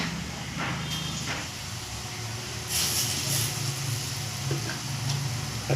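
Split-pea lentil fritters fry in hot oil, giving a steady, soft hiss and sizzle with occasional stirring.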